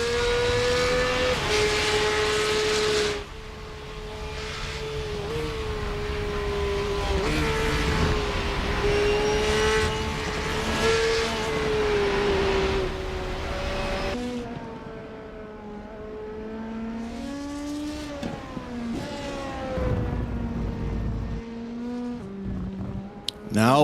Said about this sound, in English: looks like we have a great handful of cars here for today's race at the Circuit of the Americas